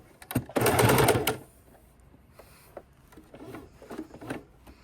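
A sewing machine stitches a fabric baking dish cover in one loud, close burst of about a second, followed by quieter clicks and handling of the fabric and machine.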